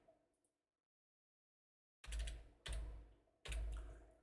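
A computer keyboard is typed on at a trading desk during a live stream, three loud thumping bursts close to the microphone after a silent stretch.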